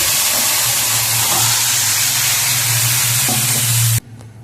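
Slit green chillies fry in hot oil for a gourd and hilsa curry, giving a loud, close, steady sizzle that stops suddenly near the end.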